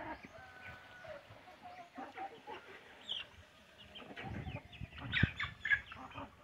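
Rhode Island Red hens and chicks clucking and peeping while eating their evening feed, with soft scattered clucks that grow busier toward the end, close by and fairly quiet.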